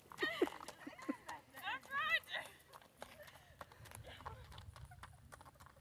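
A palomino Kentucky Mountain gaited horse in harness, hooves clip-clopping faintly in a steady rhythm, with bird chirps early on and a low rumble of movement underneath.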